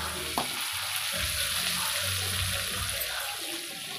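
A dense, even sizzle of food lightly frying in hot oil in a pan, for an egg savada and molankaya tomato pulusu, fills the space, with a soft knock near the start and no talking.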